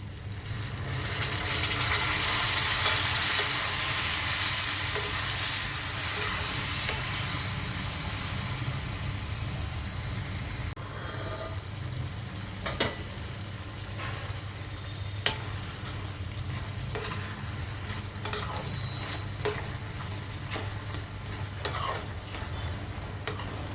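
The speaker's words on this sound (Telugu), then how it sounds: "మామిడికాయ ముక్కలు ఆయిల్లో కొద్దిగా ఉడికిన తర్వాత హాఫ్ గ్లాస్ వాటర్ వేసి ఈ ముక్కల్ని మెత్తగా" Raw mango pieces simmer in oil with half a glass of water in a pan, giving a steady loud sizzle and bubbling throughout. Occasional spoon scrapes and taps against the pan come close up, with no talk.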